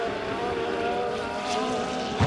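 Legend race cars roaring around a dirt speedway in a feature race, a steady distant engine drone with a pack running side by side, heard without talk.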